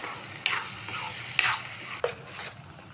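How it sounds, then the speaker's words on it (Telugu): Masala paste for stuffed brinjal curry frying in oil on a low flame, a soft continuous sizzle with three sharp stirring scrapes of a spoon in the pan, close and without talk. "ఇది సన్న మంట మీదే ఉంచుకొని ఈ పేస్ట్ మొత్తం వేయించుకోవాలన్నమాట"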